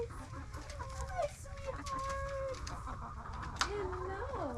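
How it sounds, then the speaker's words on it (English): Hens cluck and murmur in a backyard chicken run, with scattered close squawks and rising calls over a low rumble; a person speaks softly among them. "Hello, chickens."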